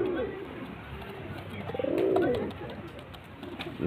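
A male pigeon of a ghee-coloured patterned breed coos close by, a soft throaty call that swells in the middle and then fades, with low background noise throughout.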